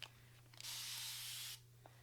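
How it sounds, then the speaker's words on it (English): A continuous-spray water bottle misting 4C natural hair, one smooth, steady hiss lasting about a second, close and alone over a faint hum. "continuous spray water bottle."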